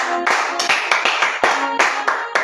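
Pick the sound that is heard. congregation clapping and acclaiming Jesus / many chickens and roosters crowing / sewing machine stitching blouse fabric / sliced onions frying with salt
congregation clapping and acclaiming Jesus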